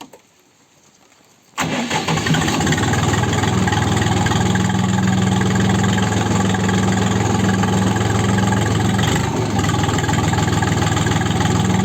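A Kentavr 244S tractor engine cranks and catches after a moment of quiet, then settles into a loud, steady, close idle with a low rumble that holds for the rest of the stretch.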